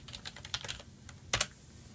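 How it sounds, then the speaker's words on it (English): A password is typed on a computer keyboard during an Ubuntu Server login: a quick irregular run of light key clicks, close and clear, ending with a firmer double tap. "and just type in your password."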